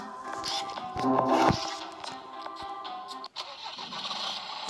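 A tractor engine in the Dark Riddle 2 video game cranks and catches, rising into a loud mid-pitched rumble around the middle, then settling into a steadier running drone, with no talk over it.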